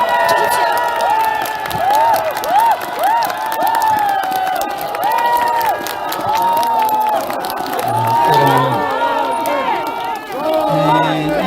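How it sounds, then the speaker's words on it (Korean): A large outdoor crowd at a Republican Party political rally cheering and clapping, loud sustained shouts and whoops with scattered applause and voices calling out throughout. "여러분 큰 박수 주십시오."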